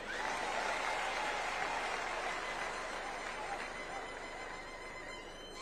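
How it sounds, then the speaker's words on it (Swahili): Crowd at a State House gathering of village elders applauds as ODM party leader Senator Oburu Oginga is welcomed, dense sustained clapping that holds steady and then eases slightly toward the end, with faint voices beneath. "Tumpigie makofi."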